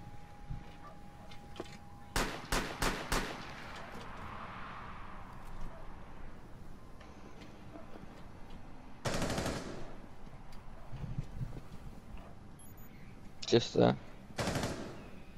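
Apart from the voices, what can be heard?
Mozzie shooting in Rainbow Six Siege video game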